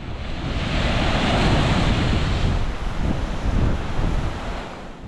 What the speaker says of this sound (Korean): 바위에 부딪혀 산란하는 파도의 모습이 너무 아름답네요